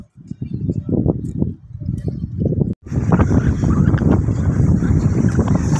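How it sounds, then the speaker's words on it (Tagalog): Strong wind buffets the microphone on the seaside parapet of a coastal road bridge in Davao, a steady loud roar after a gusty, broken start. "Lakas ng hangin, no?"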